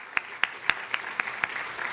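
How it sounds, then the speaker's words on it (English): A few people clap sparsely in a conference hall for the organizers, about seven distinct claps spaced evenly, moderately near and fairly quiet, with no talking over them. "they deserve a round of applause"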